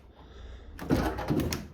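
Door of a Mazda MX-5 being fitted with an MGB GT body shuts with a single dull, close thunk after a quiet moment, followed by a brief rattle as it settles.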